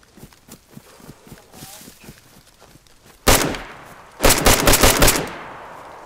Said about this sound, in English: I'm gonna shoot him right now.